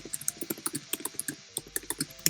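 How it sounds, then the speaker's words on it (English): Rapid keyboard typing in bursts of clicky, irregular keystrokes, fairly close and clear, with no talking over it. "I thought it was you typing like a message to me"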